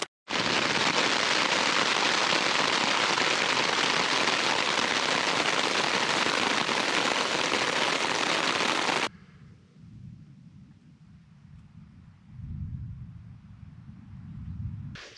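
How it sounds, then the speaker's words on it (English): Loud, dense rain pours steadily onto a taut tent surface during a storm while backpacking in Idaho's White Cloud Mountains, then cuts off abruptly, leaving a low rumbling background. "The rain was coming down at one time too, like, hard."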